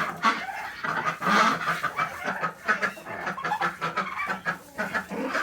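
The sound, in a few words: ducks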